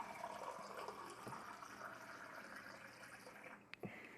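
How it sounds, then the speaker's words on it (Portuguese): Water pours steadily from a clay water filter into a container, a faint, continuous trickle with a couple of small knocks near the end. "Água de filtro de barro."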